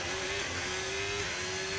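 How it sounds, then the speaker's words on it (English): A Formula 1 ground effect car engine in the video game F1 25 hums steadily at a high pitch, its tone shifting slightly, with a dense, constant roar underneath. "you can hear the car kind of like bouncing on the"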